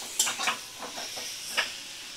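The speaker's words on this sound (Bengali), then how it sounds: "তো 2 থেকে 3 মিনিট এইভাবে আমি কষিয়ে নেব।" Eggs are being fried with spices in a pan, making a soft sizzle with a few brief scraping stir strokes close by. The frying is quiet and no voices can be heard.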